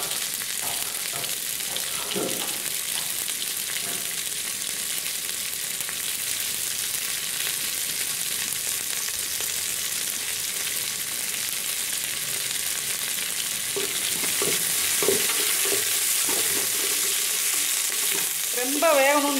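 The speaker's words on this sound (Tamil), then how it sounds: "நல்லா வெங்காயத்தை வதக்கி விட்டுப்போம். இப்போ இதெல்லாம் கருவேப்பிலை போட்டுக்கலாம்." Onions and curry leaves sauté in a pan with a steady, close sizzle, scraped and stirred now and then, with a few louder stirring clacks near the end.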